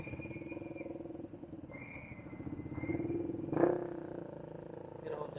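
An older Honda CB400 motorcycle engine idles with a steady, throbbing putter that swells briefly as the throttle rises, close by, while a person talks over it.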